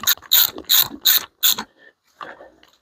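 A ratchet tightens a motorcycle fork cap on a Kawasaki ER6N, giving five loud, close, evenly spaced clicking bursts followed by a couple of softer, shorter clicks.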